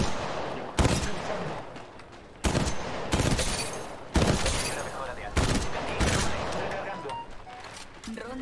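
Gunfire in Apex Legends Mobile: repeated heavy bursts of automatic fire, about seven sharp volleys over several seconds, loud and close, with a voice talking over the shooting.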